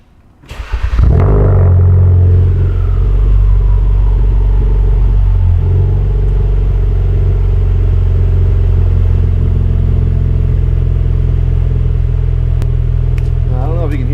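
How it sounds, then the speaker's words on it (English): A Ford Focus RS fitted with an AWE Track exhaust cold-starts with a loud crank and bark, then settles into a steady, deep, close-up idle rumble that continues unbroken to the end. "So I figured I'd try and get a cold start."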